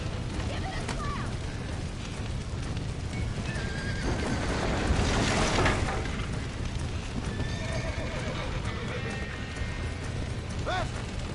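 In a Red Dead Redemption game scene, horses neigh and whinny over galloping hoofbeats, with a busy rumble of action and shouting voices mixed in throughout.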